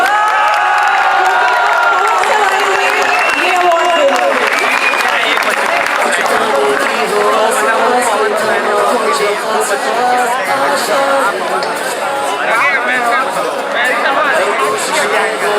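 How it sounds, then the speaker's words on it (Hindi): A school award ceremony audience applauding loudly and continuously, with cheers, shouts and crowd chatter mixed in across the whole stretch. "एक बार फिर से जोरदार तालियां।"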